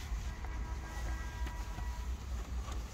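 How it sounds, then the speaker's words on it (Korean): A train rumbling steadily along the tracks, a continuous low clatter with faint rhythmic clicks and no voices. "기차 탄다"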